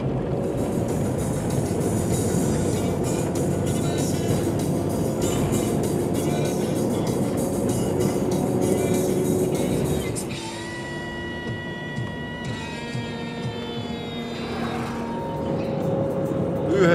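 A car on a long road trip toward the Arkhangelsk region drives with a worn driveshaft universal joint, making a constant low rumbling vibration with faint squeaks and rattles; the drone eases noticeably partway through, then builds again.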